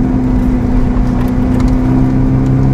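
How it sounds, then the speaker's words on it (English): Ferrari SF90 Spider fitted with a Novitec exhaust, its turbocharged engine droning loud and steady, a constant close-up hum carrying a sustained tonal whine throughout. "the lovely thing about these engines is that you really hear the turbos"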